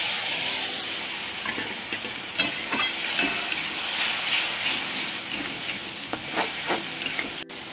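Water from washing spices poured into a hot pan of fried onions for a besan bora potato curry, giving a steady close sizzling hiss with scattered pops and crackles throughout.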